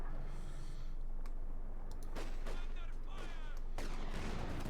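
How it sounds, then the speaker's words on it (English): Artillery strikes in the World War II strategy game Company of Heroes 2 hitting tanks, several loud booming impacts and crackling blasts over a dense battle din. "any tank staying within the designated area, just keeps getting hit by artillery"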